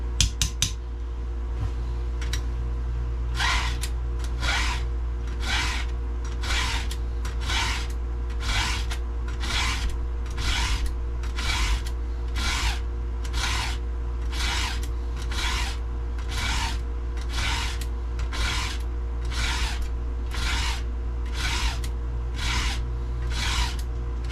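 A 36-inch Archer chainsaw chain is sharpened by hand with a file, giving a steady run of evenly spaced rasping strokes, each a short scraping burst, up close over a low constant hum.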